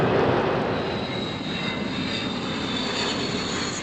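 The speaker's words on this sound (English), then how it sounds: "Comet 1, powered by 4 de Havilland Ghost 50 turbojets" Four Ghost 50 turbojets on a de Havilland Comet 1 jet airliner give a steady, loud broadband roar with a faint high whine on top, continuous throughout with no voices.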